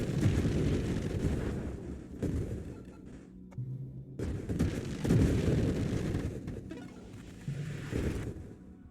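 Oversized grenades burst one after another in a video game, heavy rumbling booms with rolling low-end blasts, brief lulls between them before fresh detonations erupt loud and close.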